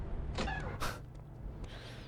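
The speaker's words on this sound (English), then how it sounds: "Ah, that door opening sound. Every door in this game sounds exactly the same." A door opens in the shooter game Return to Castle Wolfenstein, with a short run of close, scraping, whooshing bursts followed by a quieter tail over low background hum. No one speaks.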